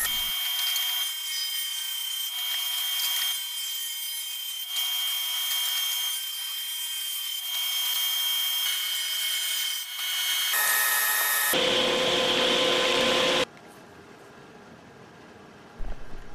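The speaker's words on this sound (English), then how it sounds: "Next, I cut 1 1/4 inch wide strips." A power saw rips wood into 1 1/4 inch wide strips, a loud continuous whine with slight changes in pitch through each pass, then winding down near the end, with no speech.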